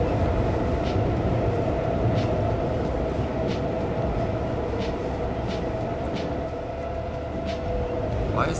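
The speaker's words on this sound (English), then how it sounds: "Why is the subway that's underneath here making noise?" A subway train rumbles steadily underground in the city-building game Cities: Skylines II, a continuous low droning roar with a faint whine above it and light periodic clicks, under quiet talk.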